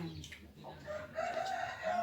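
Chickens cluck while a rooster crows, the crow rising clearly near the end over a steady farmyard background of fowl sounds.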